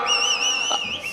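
A single shrill whistle rises from the crowd at an election rally, a loud wavering tone sustained for about a second with a brief vocal sound beneath.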